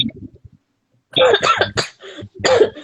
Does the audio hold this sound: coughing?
yes